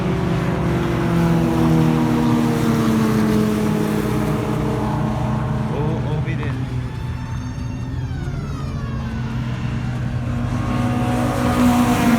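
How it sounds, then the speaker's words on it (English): Race cars, including BMWs overtaking a slower Porsche, roar past on the Tocancipá racetrack, engines loud and continuous, with one car's pitch sweeping down as it goes by. "that Porsche that is a bit slow, all the BMW are passing them"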